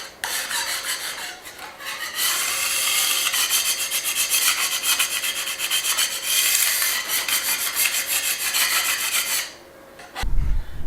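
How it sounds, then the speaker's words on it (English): Hand sanding of reclaimed wood, a loud raspy scraping in long continuous strokes with brief pauses between passes, close up and with no talking, ending in a short knock. "then we'll start the sanding"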